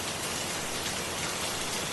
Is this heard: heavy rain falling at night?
yes